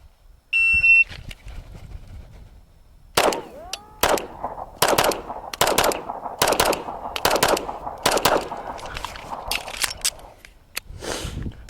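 Rapid pairs of sharp SIG Sauer P365 pistol shots crack out loud and close, roughly ten bursts over several seconds, preceded by a brief electronic shot-timer beep.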